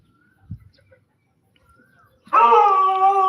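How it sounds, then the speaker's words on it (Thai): A dog barks and howls loudly at close range, starting suddenly and sustaining a harmonic, wailing bark on a plot of land beside a food factory in a Bangkok suburb. "ไม่ต้องเห่าครับ ไม่ต้องเห่า"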